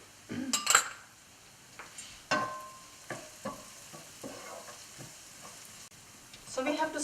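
Chopped green chilies sizzle in a pan with ginger and garlic for urad dal, with a faint steady frying hiss broken by sharp clinks and scrapes of a utensil stirring against the pan.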